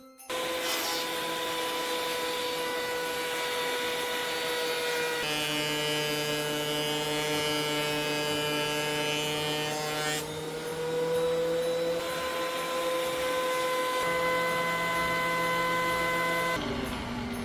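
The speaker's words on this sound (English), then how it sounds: "And that's why I love my planer." A wood planer milling a scrap pallet board, with a loud, steady mechanical whine and roar that holds on without a break and shifts pitch slightly as the cut goes on.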